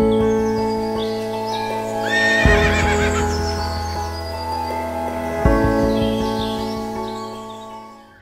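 A Suffolk draft horse whinnies loudly twice, each call a long, shaky neigh, with faint birdsong in the background and no talking.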